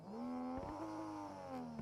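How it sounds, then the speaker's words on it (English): A rubber chicken fixed to a car's exhaust in a video game lets out a steady, high, wailing squawk that shifts slightly in pitch as the engine runs, continuous and fairly faint. "I forgot I put the rubber chicken on the exhaust."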